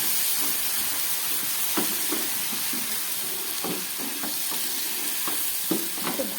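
A paste of green chili, a little garlic, onion and black pepper fries in a pan with a continuous sizzle, broken by repeated scraping strokes of a spoon stirring it.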